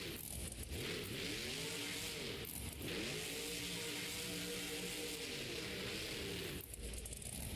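A Monster Jam monster truck's engine revs hard during a racing pass at an arena show in Albuquerque, a loud, sustained roar with rising and falling harmonic sweeps and brief dips as the throttle shifts.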